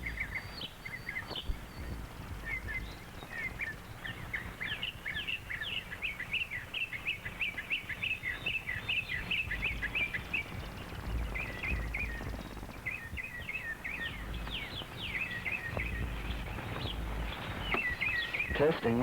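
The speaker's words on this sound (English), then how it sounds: "I hope you're getting all those bird sounds." Many birds sing and chirp under a stand of trees outdoors, a dense, steady chorus of overlapping calls running throughout with a low background rumble.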